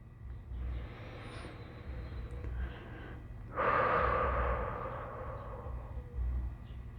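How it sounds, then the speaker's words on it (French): Slow, deep breaths in and out during a guided full-moon meditation, a long drawn inhale swelling into a louder exhale, all close and soft over a faint low hum. "Inspirez et expirez profondément."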